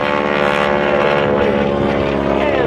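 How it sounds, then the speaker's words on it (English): A large, heavy propeller airplane flies aerobatic maneuvers at the 2013 Riverside Airshow, its loud, buzzing engine drone shifting in pitch as it passes nearby, steady throughout the short clip. "Because this airplane is big, it's heavy."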